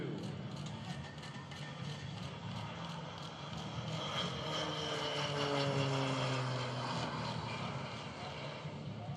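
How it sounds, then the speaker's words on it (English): The turboprop engine of a T-6C Texan II in a flight simulator runs as a steady, loud drone that rises and falls in pitch, with a rhythmic propeller throb, alone and close. "The gear comes up, the turboprop engine now with the smoke turned on."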